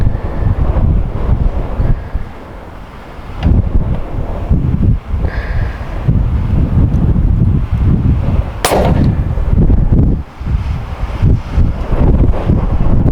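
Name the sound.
rifle shot fired while zeroing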